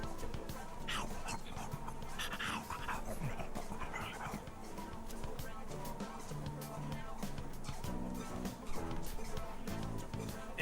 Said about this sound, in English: It's the stray dog that chased that boy around a little while ago.